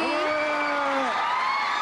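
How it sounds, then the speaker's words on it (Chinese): A high sustained whoop from an audience at the 2013 Chinese drama awards ceremony, loud and close, its pitch sliding and wavering over roughly two seconds with a faint crowd hubbub underneath. "尖叫声在哪里？"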